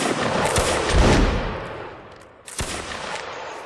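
Gunfire in a shooting video game, a dense volley of overlapping shots and blasts, loud and close, easing off before another burst of firing begins near the end.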